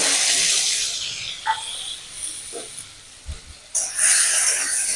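Shrimp fry in mustard oil in a pan, giving a loud, steady hiss and crackle with a few soft knocks and a sudden surge of sizzling near the end.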